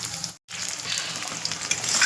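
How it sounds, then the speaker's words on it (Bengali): Chopped onion frying in a pan with oil, a steady close crackling sizzle that briefly cuts out, then returns and builds slightly louder with stirring. "পেঁয়াজটাকে আমি লাল লাল করে ভেজে নেব একটু"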